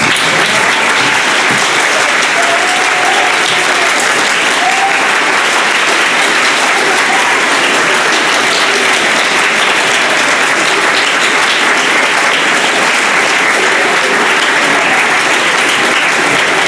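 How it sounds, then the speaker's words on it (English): A graduation audience and the eighth-grade class of 2018 clap together, producing dense, sustained applause that fills the hall loudly and steadily from start to finish. "stand, clap for yourselves, and clap for each other."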